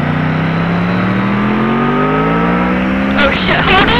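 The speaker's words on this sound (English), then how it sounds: "Go, give it a little bit of gas." A Triumph Street Triple R motorcycle engine revs steadily and loudly up close, its pitch climbing smoothly before a sharper throttle burst near the end, with people talking over it.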